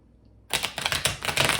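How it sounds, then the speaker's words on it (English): Tarot cards shuffled by hand for a reading, a quick burst of crisp rapid riffling clicks starting abruptly after a brief silence and continuing close and loud to the end. "I'm just going to shuffle them one last time"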